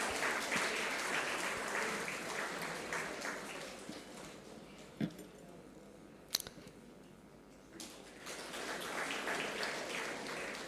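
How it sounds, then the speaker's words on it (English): Audience applause at a district-level youth parliament event, clapping that starts fairly full, thins and fades toward the middle with a few sharp clicks, then swells again near the end. "Give the young and energetic minds on the dais a big round of applause."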